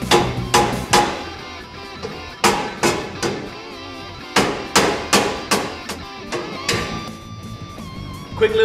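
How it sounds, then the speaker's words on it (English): A soft hammer taps a winch cradle onto a vehicle's chassis rails during a bull bar install, giving about a dozen sharp, close knocks in irregular pairs and singles with quiet pauses between. "a little bit of persuasion with a soft hammer is going to work wonders"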